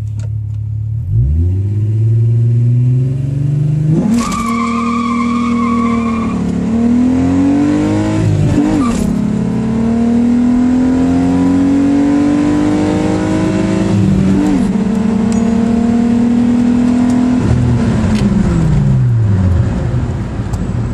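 A 1996 Volkswagen Golf GTI VR6, a 2.8-liter six-cylinder with a 5-speed manual, pulls hard from a standstill, its loud, close engine note climbing through several gears with brief dips at each shift.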